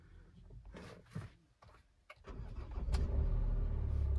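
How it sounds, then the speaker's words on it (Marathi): A Hyundai Venue car engine cranks with a few clicks and rustles, then catches and settles into a loud, steady idle that grows stronger toward the end. "झाली चालू आपली गाडी."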